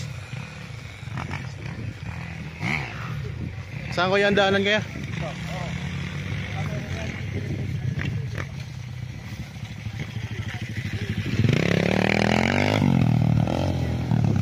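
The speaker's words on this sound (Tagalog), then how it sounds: "Yung nagmumotor na malaking motor." Large motocross motorcycles ride near rice fields on a farm property in Nagcarlan, Laguna, their engines whining and rising in pitch in passing bursts beneath ongoing conversation.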